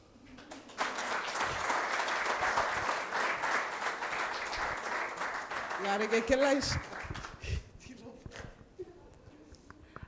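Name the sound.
applause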